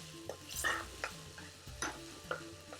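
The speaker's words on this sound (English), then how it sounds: "now we're going to throw in those lovely green chillies" Green chillies hit a frying curry with a soft sizzle, broken by several sharp stirring scrapes and clinks of a spoon against the pan, close and fairly quiet.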